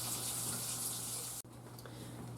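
Hot water from a large can poured into an Instant Pot while making homemade chili, a steady rushing splash that cuts off abruptly partway, leaving a quieter hiss behind.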